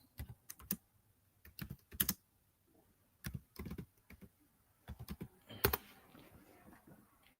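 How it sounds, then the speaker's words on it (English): Close-up clicks of typing on a computer keyboard in irregular bursts, with short pauses between runs of keystrokes. "You see what I'm typing in?"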